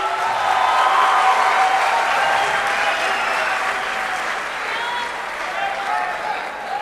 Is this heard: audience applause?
yes